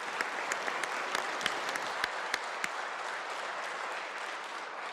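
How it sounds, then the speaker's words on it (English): Applause in a legislative chamber: many hands clap together in a dense, roomy patter with sharper individual claps standing out, holding steady for several seconds. "Give them a big round of applause."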